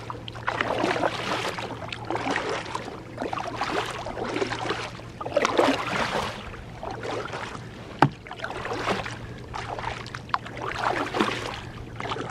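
Canoe paddling on the Ochlocknee River: rhythmic paddle strokes and water swirls repeat every couple of seconds close by, with a steady low hum underneath and one sharp knock partway through.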